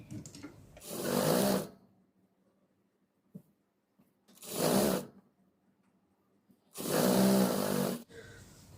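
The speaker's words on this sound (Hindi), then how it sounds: "इसे अब मैं यहाँ से स्टिचिंग लगा दूंगी ऊपर की तरफ" A sewing machine stitching lined women's straight pants runs in three bursts of steady whirring, close and fairly quiet, separated by silent pauses while the fabric is repositioned.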